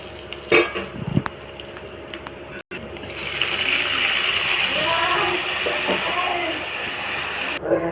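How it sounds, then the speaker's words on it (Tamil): Tamarind water is poured into a pan of sautéed onions and curry leaves, setting off a loud, steady sizzle and bubbling after a brief pause, with a little handling noise at the start. "இந்த அளவு நல்லா வதங்கினோமே இப்போ புளி தண்ணி ஊற்றிக்கலாம்."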